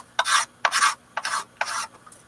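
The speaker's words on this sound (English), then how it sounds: "And we'll also use a scraper. Make sure it's nice and uniform." A hand scraper rasps across violin wood during restoration, four short, close scraping strokes at an even rhythm with quiet pauses between them.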